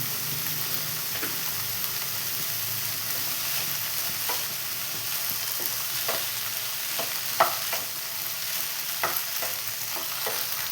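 Salted ingredients for a paneer red gravy being stir-fried in a pan. A steady, even frying hiss runs throughout, broken by scattered light ticks and scrapes of stirring, with no voices.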